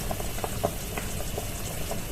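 Meat stews in a pot, bubbling and simmering steadily, with soft popping blips over a low continuous hiss.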